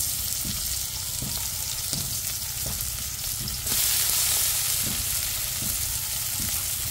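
Green chilies and onion frying in a pan, a strong steady sizzle with regular stirring knocks every half second or so, growing a little louder midway, close and without talk.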